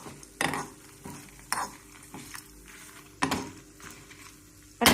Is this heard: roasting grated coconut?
yes